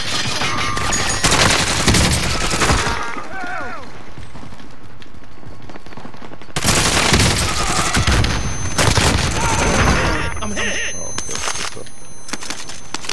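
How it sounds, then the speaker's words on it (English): Gunfire in Call of Duty: Modern Warfare, loud bursts of rapid shots in two bouts separated by quieter stretches, with a player's voice talking over the action. "I think somebody else is shooting at him"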